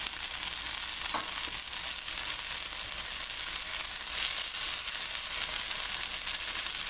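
Salmon sizzles steadily in a hot pan, a constant bright crackle and hiss throughout, with a brief clatter early on.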